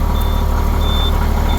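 A vehicle's low fuel warning gives a thin, steady electronic beep in repeated long tones over a loud, constant idling engine rumble nearby.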